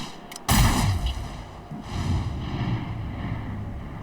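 Gunfire bursts out during a breach in the video game XCOM: Chimera Squad, one sharp loud blast followed by a heavy booming rumble and a second swell of fire.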